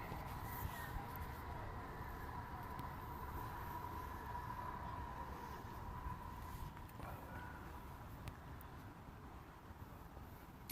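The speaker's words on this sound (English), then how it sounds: "the trains are really loud" A train rumbles past in the distance, a steady low roar with a faint humming tone, quiet and continuous throughout.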